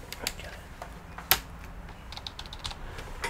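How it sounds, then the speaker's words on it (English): Brief burst of key presses on a wireless computer keyboard during a Dell Inspiron 5000 5759 laptop repair, scattered clicks with one sharper clack, fairly close over faint room noise. "Keyboard is working"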